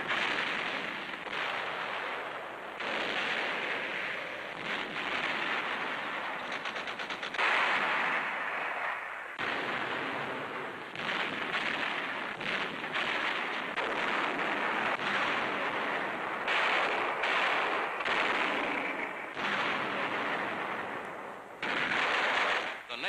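Naval and land artillery fire during the 1945 battle of Iwo Jima, heard as dense, continuous booming and blasts in rapid succession, loud and rumbling throughout with no clear pauses.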